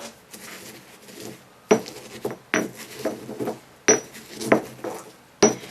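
A spoon stirs a sandalwood incense mixture in a hard bowl: a few separate scraping clinks and knocks at an uneven pace, close by and fairly loud, with quiet gaps between.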